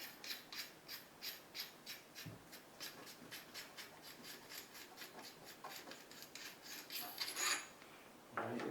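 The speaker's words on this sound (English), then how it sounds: "You have to get it past the first set of threads and then the second set of threads to get it fully off." A threaded part of an Evo 12 shotgun is unscrewed in a series of rhythmic gritty rasping turns, close and fairly quiet, with no talk.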